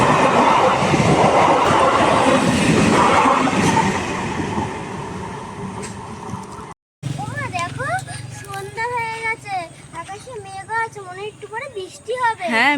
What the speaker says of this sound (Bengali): এই যে এখন ট্রেন চলে এসছে শিয়ালদা থেকে বনগাঁ লোকাল।